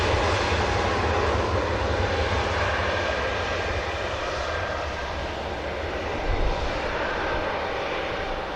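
An aircraft climbing out after take-off makes a broad, steady engine roar that slowly fades a little as it recedes, with no talk.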